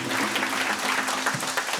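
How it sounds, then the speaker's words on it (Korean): Applause from guests at a Korean traditional wedding ceremony held on a hot day, a steady dense patter of many hands clapping throughout, fairly close and filling the whole moment with no talk over it. "이 더운 날씨에 박수 한번 드렸으면 좋겠습니다."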